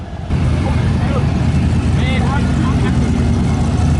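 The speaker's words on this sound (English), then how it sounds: "Mallory with the Scat Pack and Tommy with the Duramax." Engines roar nearby as a Dodge Scat Pack and a Duramax truck line up for a drag race. The loud, steady mechanical rumble fills the scene, with some faint voices mixed in.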